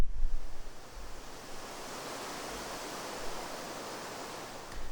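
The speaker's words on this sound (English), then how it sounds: "you can hear a really nice autumn fall rustle of leaves" Autumn leaves rustle as a sound design effect, a dense, steady hiss of dry foliage stirring close and continuous, with a brief louder burst at the start and end.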